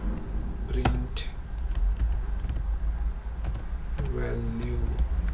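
Keys clack on a computer keyboard as Java code is typed, a quiet, irregular patter of separate taps with brief pauses between bursts, up close, with faint talk in the background.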